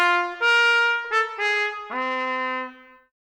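A trumpet in F, played open with the third valve slide left in, sounds a short phrase of four sustained notes, close and fairly loud, the last held tone fading out, pitched too sharp.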